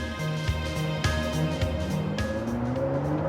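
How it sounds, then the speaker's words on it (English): A 2018 Ford GT with a turbocharged V6 driving, steady engine drone heard from inside the car with rising tones as it pulls through the gears. "This is a turbocharged V6."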